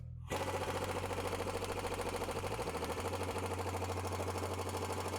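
Air impact gun hammering steadily on a tightened front wheel bearing nut of a Ford Escort, a loud continuous rattling burst starting abruptly and running without a break, with no voices.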